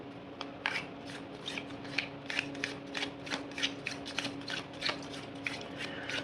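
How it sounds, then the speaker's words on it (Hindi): Tarot cards shuffled by hand, a quick run of soft riffling and rubbing flicks in an irregular rhythm, close and fairly faint. "एक बार और शफल कर लेते हैं।"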